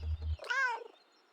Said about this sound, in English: A reassuring meow.